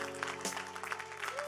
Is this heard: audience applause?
yes